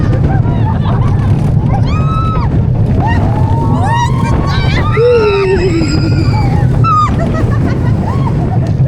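A Fjord Explorer water ride at Le Pal theme park rushes with steady churning water, while riders shriek and squeal in rising, wavering screams over a busy crowd murmur.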